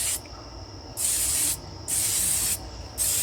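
Aerosol can spraying red oil onto the air filter of a 1999 Suzuki RM 125 dirt bike, four close, sharp hissing bursts of about half a second to a second each, separated by brief pauses, with no talk.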